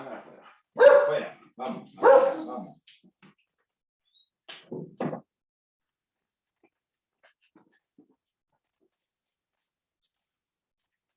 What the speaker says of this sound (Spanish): tengo 3 perros y a veces se ponen a ladrar